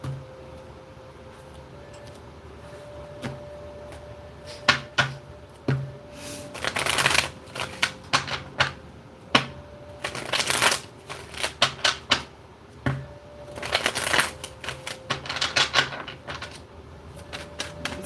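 Tarot cards shuffled in repeated riffling bursts over a faint steady hum, close and fairly loud, with no talking.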